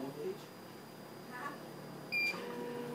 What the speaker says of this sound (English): we're going to push and hold the check button until it beeps.